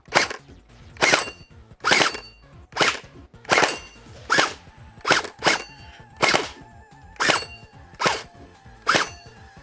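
An X-Shot gel blaster fires rapidly in a steady rhythm of about a dozen sharp, close, snappy shots with brief mechanical rattles between them, no talking.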